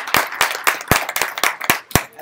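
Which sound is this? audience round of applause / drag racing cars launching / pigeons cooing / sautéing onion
audience round of applause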